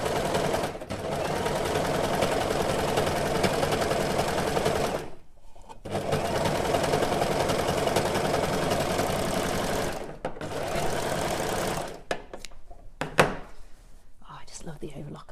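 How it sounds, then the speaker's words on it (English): Overlocker serger stitching fabric pieces for a handmade hood, running in long steady whirring bursts with brief pauses between seams, loud and close, ending with a few clicks and handling noises. "Love the overlocker. Makes everything so neat and finished and together so quickly."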